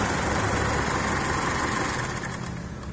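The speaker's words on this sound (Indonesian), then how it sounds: "ini adalah mesin Isuzu D-Max" A modified Isuzu D-Max engine runs at a steady idle up close, giving a dense, even mechanical drone with a low rumble that eases slightly near the end.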